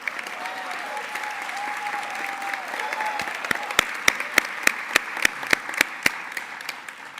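An audience applauds at a theatre company press conference, dense clapping that fades over several seconds while a run of sharp, evenly spaced clicks sounds over it.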